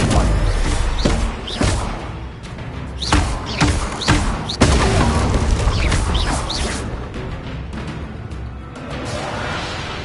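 Stupefy spells cast in rapid Hogwarts Legacy combat, a dense run of thuds, booms and swishes over about ten seconds, loud and close with overlapping impacts.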